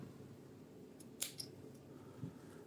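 Small old-style scissors on a 2016 limited-edition Pioneer Swiss Army knife give a few quiet, crisp snips, one louder cut near the middle followed by fainter clicks, alone over a low room hum.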